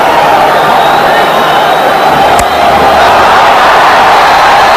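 A huge crowd at Gaddafi Stadium roars continuously for a six hit into the stands during a night T20 cricket match between Pakistan and a World XI, a dense loud wall of cheering.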